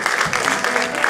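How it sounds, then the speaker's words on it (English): A church congregation claps their hands during a sermon, a dense burst of many overlapping claps heard close and fairly loud. "Won't you clap your hands to the Lord"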